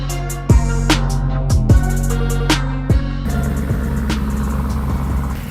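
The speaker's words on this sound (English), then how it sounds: "Billy, the car needs a cam, man. It ain't rumbling loud enough." A car engine rumbles loudly close by in a garage, revving in several sharp bursts before settling into a deep, uneven idle.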